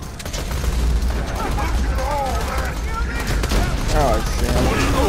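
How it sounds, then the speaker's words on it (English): Dense, continuous gunfire from several directions during a firefight in the video game Borderlands: The Handsome Collection, loud and steady, with someone talking over the shooting. "I can't tell where all the firing's coming from."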